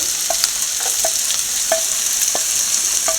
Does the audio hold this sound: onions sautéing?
yes